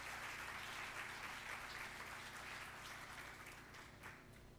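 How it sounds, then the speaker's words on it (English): Distant, quiet applause from an audience at a higher-education excellence celebration, a continuous wash of clapping that slowly thins toward the end, with no voices over it. "So let's give ourselves a round of applause"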